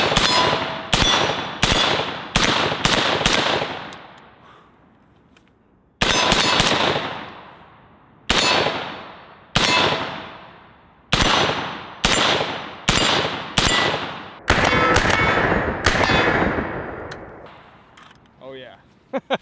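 Gunfire from a magazine emptied at an outdoor shooting range: sharp, loud, close shots in quick pairs and short bursts, each trailing off in a ringing echo, with a few pauses between groups and a quieter tail near the end.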